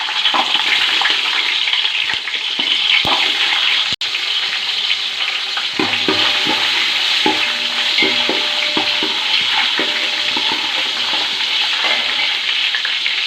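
Small shallots fry in a pan with dried turkey berries and dried chillies for bisi bele bath, a loud, steady sizzle with scattered pops and a few stirring knocks against the pan.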